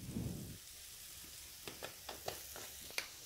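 Potato with turmeric and red chilli powder fries in a pan: a soft sizzle, a brief louder burst at the start, then a series of sharp spatula taps and scrapes.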